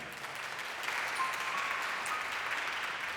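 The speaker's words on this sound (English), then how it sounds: "Give yourselves a round of applause again" A jazz concert audience in New York applauds steadily, a dense wash of clapping from a room full of people, sustained and even throughout without talk over it.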